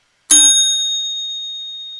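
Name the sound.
bell ding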